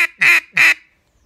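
A voice imitates a mallard duck quack, making three loud, nasal calls in a quick rhythm, with the second and third longer than the first, heard close and alone.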